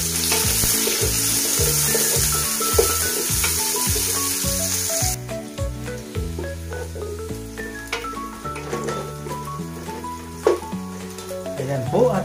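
Chopped onion sizzles loudly in a hot pan with garlic already browned, part of cooking ginisang pechay with sardines; the steady frying hiss fills the first five seconds, then drops away beneath rhythmic background music.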